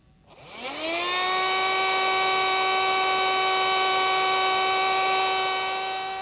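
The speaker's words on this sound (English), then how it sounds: "I'm going to vacuum around the flutes of the plug and inside the valve before I remove it" A vacuum spinning up and running while cleaning around the plug flutes and inside a steam valve, a rising whine that settles into a loud, steady tonal drone.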